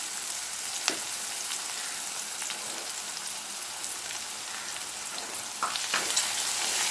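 Onions with green chillies and ginger garlic paste sautéing in a pan for pepper prawn gravy, a continuous hissing sizzle with a few spoon scrapes, steady and close with no talking.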